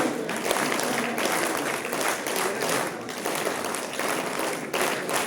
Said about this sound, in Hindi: तालियां जबरदस्त होनी चाहिए।